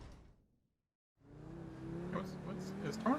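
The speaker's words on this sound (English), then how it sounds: "this is a supercar." A supercar engine in GTA Online rises from near silence into a steady, loud drone with a climbing rev and faint whooshes, continuing to the end.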